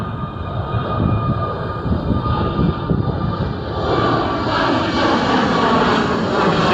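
Airplane taking off near the airport in Paranaque, a loud continuous jet roar that swells and holds across the whole stretch, close and dominant with no talk.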